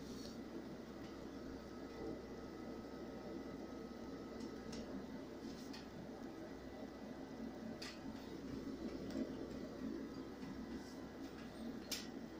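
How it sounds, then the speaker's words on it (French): Steady broadband whir of the noisy cooling fan in a Majorcom AP-30 amplifier, a constant hum filling the whole clip with no talk over it. "le ventilo il est assez bruyant"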